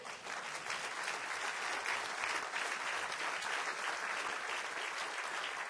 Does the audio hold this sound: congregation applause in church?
yes